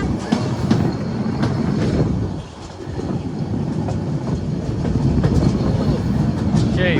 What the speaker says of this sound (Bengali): এটা হচ্ছে কক্সবাজার রেলওয়ে স্টেশন